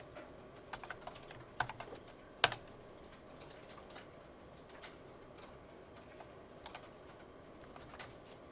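Sparse keystrokes on a computer keyboard while code is entered, faint and close, with a few sharper clacks in the first few seconds and quiet gaps between the taps.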